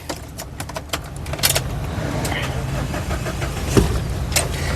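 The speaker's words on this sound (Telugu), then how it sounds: "సింగిల్ సెల్ఫ్లో కార్ స్టార్ట్ అవుతుంది ఎటువంటి స్టార్టింగ్ ట్రబుల్ అయితే లేదండి" A 2016 Mahindra Scorpio S4+ diesel SUV starts on the first crank after a jingle of keys. The engine catches and settles into a steady idle, with someone talking over it.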